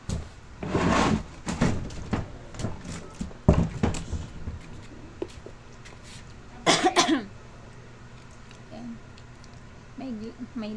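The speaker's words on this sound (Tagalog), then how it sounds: "May ubo pa." A feverish child coughs in several harsh bursts spread across the stretch, close by, with an adult speaking in between.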